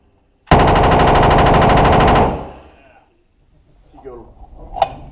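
A machine gun fires one long, rapid, loud burst at an indoor shooting range in Miami, then stops abruptly, its echo fading out before faint voices and a short sharp knock follow.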